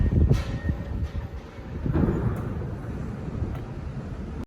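A freight train rolls along the rails near Dayton, Ohio, giving a steady low rumble with wind noise on the microphone and a few faint clanks, fairly loud and sustained before cutting off abruptly.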